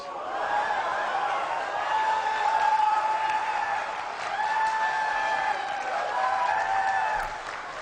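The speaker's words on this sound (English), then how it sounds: "Do you hear the crowd?" A crowd at the E3 video game expo cheers and applauds steadily, with whoops and scattered voices rising over continuous clapping.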